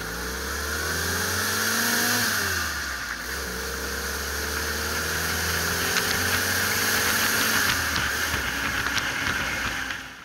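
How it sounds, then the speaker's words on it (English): A WW2 Willys jeep engine fitted with a Solex carburetor accelerates, its mid-pitched engine note rising steadily through the gears with a brief dip in between, close and continuous with a steady hiss and no talk. "let's just do a normal acceleration"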